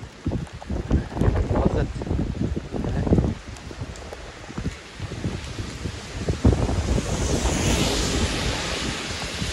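Strong gusty wind from Typhoon Kong-Rey roars and buffets a microphone outdoors in Taiwan, loud and continuous with surging rushes and rumbling low-end gust noise throughout.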